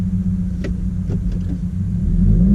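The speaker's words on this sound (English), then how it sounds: "First impressions pulling out from the house." A 2017 Subaru WRX fitted with a Perrin steering dampener lockdown rumbles as it pulls out from a house. The low engine drone comes from inside the car, with a couple of faint clicks and a slight swell near the end.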